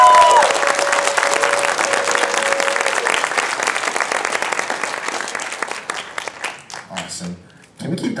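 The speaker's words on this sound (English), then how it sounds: "Round of applause for Ted." An audience at an iOS demo day applauds a presenter named Ted, a loud, dense and sustained clapping with some cheering that thins and fades toward the end, with a voice speaking over it.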